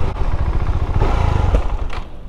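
A Husqvarna Svartpilen 701 motorcycle pulls away under load, a close, loud, throbbing single-cylinder engine note rising steadily with some mechanical clatter and no speech over it.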